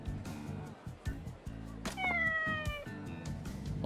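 A lucky cat in the Like a Dragon: Ishin video game gives a clear, drawn-out meow over steady in-game background music.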